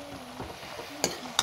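Green chilies and onion frying in hot oil in a wok, a soft, close sizzle with a few sharp clinks of a utensil striking the pan near the end.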